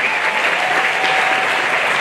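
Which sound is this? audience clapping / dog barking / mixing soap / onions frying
audience clapping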